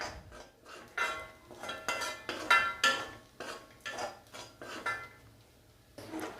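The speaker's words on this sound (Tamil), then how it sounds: "நம்ம மிளகாத்தூள் போட்டு இன்னும் ஒரு 2-3 நிமிஷம் நல்லா வதங்கட்டும்." Sliced onions with chili powder for an onion thokku are sautéed in a pan, with a spoon scraping and clinking against the metal in steady, rhythmic strokes. Nobody is talking.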